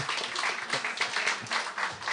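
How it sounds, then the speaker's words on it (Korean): A church congregation applauds in a short, dense burst of clapping, close and steady with slight swells, with no talk over it. "박수 한번"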